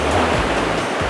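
Big ocean waves crash and surge continuously along a shore, a loud, dense wash of surf with no voices.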